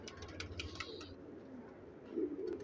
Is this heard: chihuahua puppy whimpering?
no